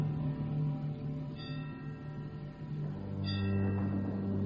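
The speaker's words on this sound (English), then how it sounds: "The bell invites me." A bell rings twice with sustained tonal strikes that hang and fade, over a low droning background, fairly near and moderately loud.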